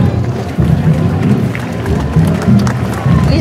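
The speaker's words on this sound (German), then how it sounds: "Applaus bitte!" An audience at a medieval-style mask parade in Zittau claps and cheers. Dense, close applause mixed with crowd noise runs throughout in uneven bursts.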